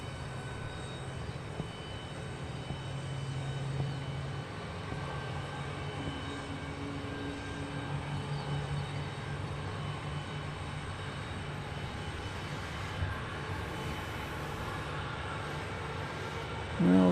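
Airliner on Flight 335 to Baltimore Washington taking off at Dallas Love Field: a sustained distant jet engine roar, broad and steady, heard alone.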